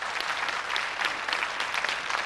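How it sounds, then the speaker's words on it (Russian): A television game show studio audience claps steadily, a dense patter of many hands at moderate volume, continuing evenly with no speech. "Аплодисменты."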